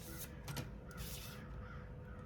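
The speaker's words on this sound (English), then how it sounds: "Y'all hear those birds?" Crows caw outdoors a few times, faint and distant, short rough calls against a quiet background.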